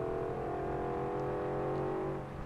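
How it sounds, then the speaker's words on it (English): An old pickup truck engine in Forza Horizon 2 drones steadily up close, a continuous low rumble with a slight rise in pitch. "Listen to that engine."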